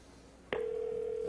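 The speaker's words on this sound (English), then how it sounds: "Let's dial him up and see if we can order some food here." A telephone being dialed to call a restaurant: a short click, then a steady single dial tone that holds, moderately loud and without talk.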